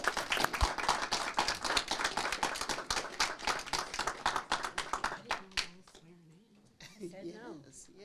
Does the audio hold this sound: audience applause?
yes